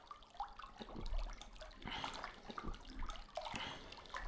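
Water in the video game Starsand, a faint trickling and splashing flow with small irregular drips and gurgles, quiet and continuous without speech.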